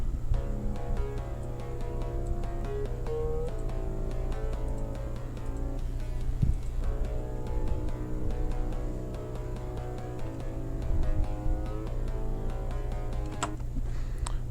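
Guitar-like synth lead played dry, without any guitar amp or signal chain, carrying a steady tonal melodic line over a dense, sustained low drone throughout.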